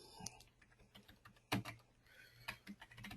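Quick bursts of typing on a computer keyboard during data entry, with irregular clacking keystrokes and a few sharper key hits, close and fairly quiet, with no one speaking.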